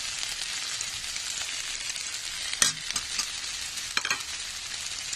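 Okra and green peas with freshly added spices fry in a pan, giving a steady bright sizzle. A sharp stirring scrape cuts in midway and a couple of lighter clinks follow, close to the microphone.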